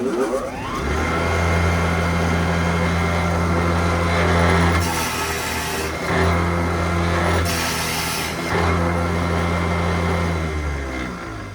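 A drill press motor whines steadily at high speed with a strong, even hum, briefly rising in pitch with a couple of short bursts of harsher noise.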